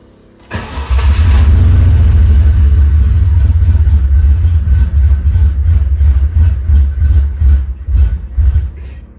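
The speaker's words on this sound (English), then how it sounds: "Gotta love E85 cold starts." A turbocharged Ford Mustang engine running on E85 cranks and fires on a cold start, surging loudly with a heavy low roar, then settles into a lumpy, pulsing idle close by.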